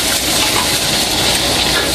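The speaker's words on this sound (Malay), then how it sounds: "Kita tumis bawang dulu." Onions sizzle in hot oil in a pan for Malaysian mee kuah udang, a steady, loud, bright hiss that stays even throughout with no talking.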